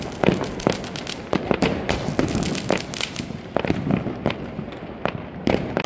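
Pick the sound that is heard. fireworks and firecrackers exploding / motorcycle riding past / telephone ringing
fireworks and firecrackers exploding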